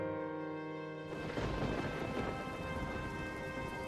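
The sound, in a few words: heavy rain and thunder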